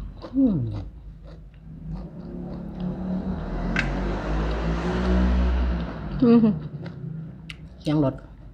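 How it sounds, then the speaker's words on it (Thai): A car passes nearby as a swelling broadband rumble that builds and fades over several seconds, with a voice talking briefly before and after it. "เสียงรถ"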